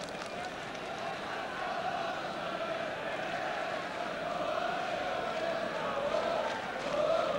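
Large but sparse football crowd at a Tottenham home match against Everton, a continuous roar of cheering and chanting filling the stadium, steady and fairly loud with no break.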